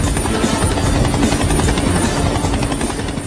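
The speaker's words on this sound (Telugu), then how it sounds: "helicopter sound" Loud, close helicopter rotor drone in a film scene, a continuous throbbing buzz that holds steady throughout.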